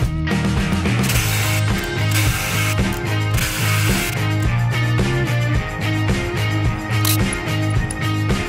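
A ratchet wrench turns a socket on the head studs of a Cummins engine, making a dense, loud run of rapid clicking pawl ticks, steady and close throughout with no voices.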